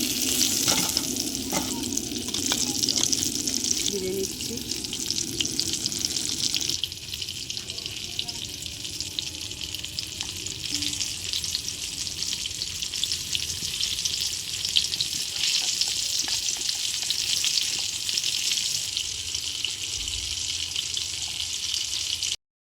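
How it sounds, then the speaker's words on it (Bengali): Chicken cutlets deep-frying in hot oil, a dense continuous sizzle that runs loud and unbroken, with occasional clinks of a utensil turning and lifting the pieces up close. "আমাদের চিকেন কাটলেটগুলো সব ভাজা হয়ে গেছে"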